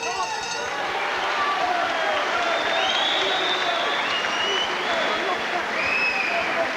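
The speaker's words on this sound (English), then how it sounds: "Crowd are loving it." Boxing crowd applauding and cheering in a continuous dense roar of clapping and shouts, with commentary voices talking over it.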